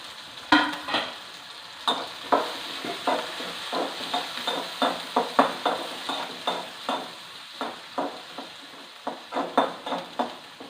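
Two green chilies are sautéed in a pan for an ivy gourd fish curry: a low sizzle is broken by rhythmic spoon strokes, roughly one scrape per half second, close and clear.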